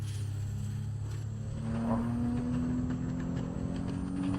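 A supercharged car in Assetto Corsa, its engine droning steadily while a rising supercharger whine climbs in pitch, close and continuous.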